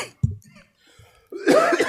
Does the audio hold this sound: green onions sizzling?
no